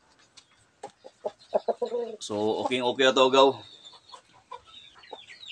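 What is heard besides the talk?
native Cantonese breed chicken clucking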